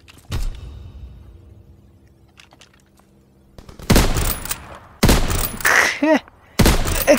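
Strafing machine-gun fire in Call of Duty: WWII comes in three loud, dense bursts after a quieter stretch of faint distant shots and thumps.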